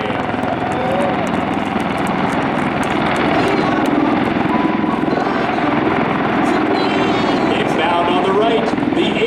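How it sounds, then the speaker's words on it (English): CV-22B Osprey tiltrotor aircraft flying overhead at an air force base airshow, a loud steady throbbing rotor and engine roar that fills the whole stretch, with an announcer's voice running over it. "The CV-22B Osprey, the 58th Special Operations Wing Long-Range Infiltration and Exfiltration Platform."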